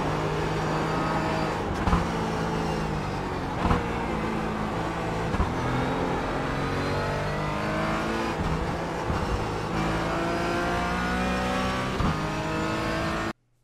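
A GT4 race car in the iRacing sim at Barber Motorsports Park roars loudly and steadily through a corner onto the main straight, with engine pitch rising and falling through gear changes and no talking.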